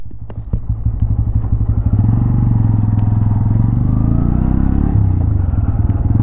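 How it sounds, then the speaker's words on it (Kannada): The exhaust of a 2025 Bajaj Pulsar N160 160cc motorcycle thumps close by, starting with a few throttle blips before settling into a steady pulsing idle and a brief rev, with no voices. "ಎಕ್ಸಾಸ್ಟ್ ಸೌಂಡ್ ಈ ಥರ ಕೇಳಿಸುತ್ತೆ."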